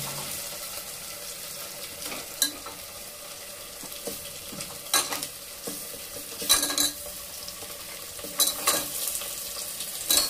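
Mutton trotters frying in a pan with ginger-garlic paste, a steady low sizzle with scattered clanks and scraping stirs, close up, no talking.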